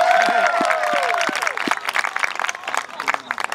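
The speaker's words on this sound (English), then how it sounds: "Give them a shout, give them an applause." Audience at a schooner talent show applauding and cheering loudly, a thick burst of claps and shouts that thins into scattered clapping.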